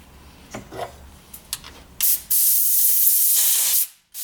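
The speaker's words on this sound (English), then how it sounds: "I'm using a blowgun just to blow the dust out from cleaning the threads" Compressed air blowgun clearing dust from freshly cleaned threads on a Jeep WJ Grand Cherokee long arm suspension part: soft handling noises, then a loud steady hiss of air for about two seconds, stopping abruptly before a brief restart.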